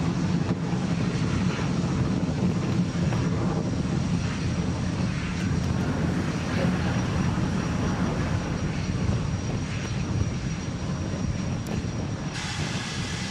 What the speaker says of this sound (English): And we have liftoff.